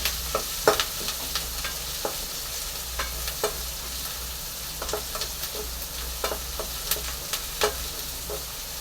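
Curry leaves and okra sauté in a pan for a curd gravy, a steady low sizzle broken by frequent sharp scrapes and taps of a spoon stirring throughout, close and moderately loud with no talking.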